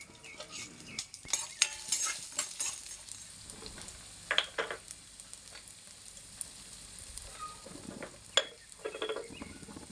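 Urad dal, chillies and garlic fry in a pan while being stirred, giving a steady sizzle with scraping spoon strokes and occasional clinks of utensil against metal.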